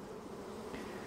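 A dense, steady buzzing of many honeybees at an open hive fills the space, close and continuous.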